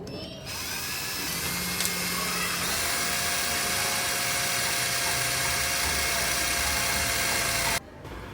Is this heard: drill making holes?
yes